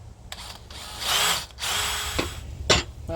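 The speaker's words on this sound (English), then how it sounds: "let's drill out our holes" A power drill whines in two sustained bursts, biting through go-kart plates, with clicks and clunks between runs; close and fairly loud, no talking.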